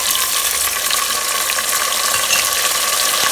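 Onions and tomatoes cook together in a pan, giving a loud, dense, even frying hiss up close that holds steady throughout with faint stirring and no voices.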